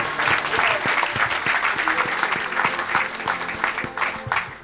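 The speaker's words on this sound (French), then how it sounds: "Clap for the Lord." A church congregation claps in praise of the Lord, a dense, steady burst of many hands applauding together, loud and close, with a voice faintly present beneath the clapping.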